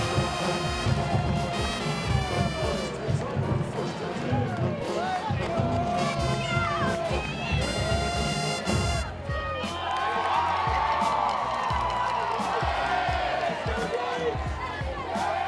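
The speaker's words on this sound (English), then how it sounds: "already raucous Wake Forest crowd." A large crowd of Wake Forest fans cheers and shouts in a continuous roar, with whoops and yells rising over the din.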